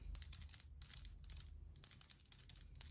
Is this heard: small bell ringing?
yes